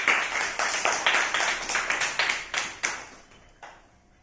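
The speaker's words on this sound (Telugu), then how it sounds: "Very good. క్లాప్స్ కొట్టండి." A classroom of children claps during a maths lesson on shapes. A quick series of close clapping bursts runs steadily, then thins out and fades toward the end.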